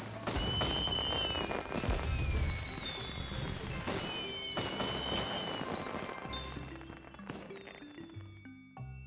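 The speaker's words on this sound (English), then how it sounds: "The fireworks are so beautiful!" Fireworks bursting in a children's cartoon: a rapid series of crackling pops and bangs with whistling rising streaks, dense and loud at first, then thinning out toward the end.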